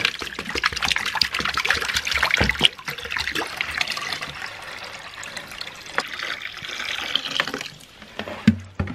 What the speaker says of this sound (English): So I'll have to dump hot water on it and melt it.